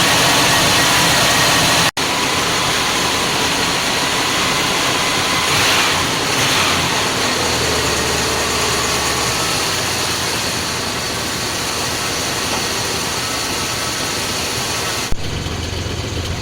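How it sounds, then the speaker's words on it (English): A warming-up car engine at fast idle, a steady loud broadband hum and whir held at constant speed with no talking, briefly interrupted by a couple of clicks. "I think I'll kick it off a fast idle."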